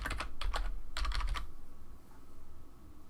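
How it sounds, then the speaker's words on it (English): Rapid bursts of keystrokes on a computer keyboard while comments are typed, clustered in two quick runs near the start and then fading to quiet room hum. "I can type comments here."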